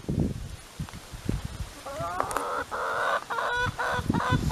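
Chickens cluck and crow in a rhythmic series of nasal calls, moderately close, with scratchy background rustling and no talk.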